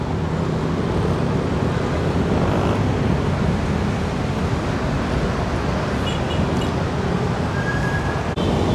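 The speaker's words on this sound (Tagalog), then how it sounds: "Maraming sasakyan dumadaan." A constant heavy rumble of dense traffic on EDSA passing close below a footbridge near Kamuning, Manila, broad and unbroken, with a brief higher tone near the end.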